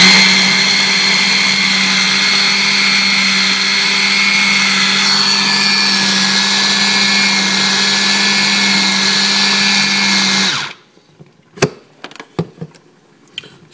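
A blender or food processor whirs steadily at high speed while blending olive tapenade, a loud constant motor drone with a grinding edge for about ten seconds, then cuts off abruptly, followed by a few clinks and scraping knocks.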